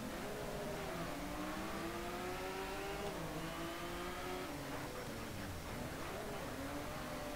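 Car engine revving and shifting through gears in the racing game Need For Speed Shift, a steady loud drone with rising and falling pitch sweeps, heard alone without talk.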